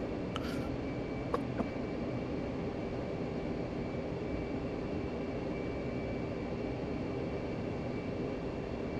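A jet taking off in the Digital Combat Simulator video game gives off a steady, moderately loud engine roar and wash that holds constant throughout, with a couple of brief sharp clicks near the start.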